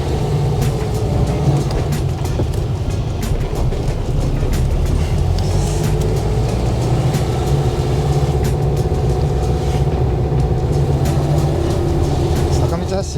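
A Volkswagen Type 3 Notchback pulling away after a hill start, its engine droning loud and steady from inside the cabin with road rumble underneath, continuous throughout.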